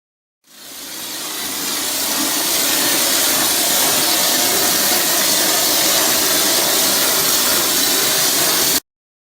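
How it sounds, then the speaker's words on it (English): A mortar sprayer shoots concrete overlay material onto a wall through its orifice holes, a loud, sustained broadband hiss of compressed air that builds in the first second, holds steady, then stops abruptly. "to shoot the material through about 3/4 to 1 inch orifice holes through the actual mortar sprayer"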